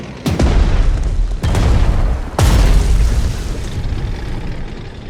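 Three loud, close explosive booms strike about a second apart as an attack destroys an anti-aircraft gun in Strategic Mind: The Pacific, each impact leaving a rumbling tail that lingers under the next.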